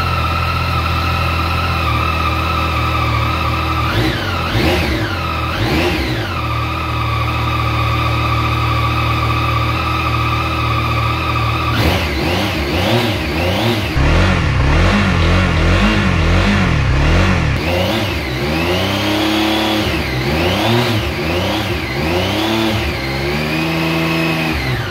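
A new motorcycle engine fired up by a hidden kill switch and start switch, settling into a loud steady idle, then blipped in a string of sharp revs, rising and falling in quick bursts close by.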